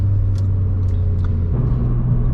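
An Audi S1 hatchback accelerating hard during a quick overtake on the road, with a loud, close engine rumble that shifts pitch partway through as it pulls past, and no talking.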